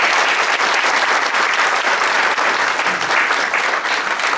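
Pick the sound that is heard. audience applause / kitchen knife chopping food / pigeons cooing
audience applause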